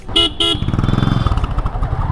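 Two quick horn toots, then an overheated motorcycle engine chugging close by with a steady pulsing throb.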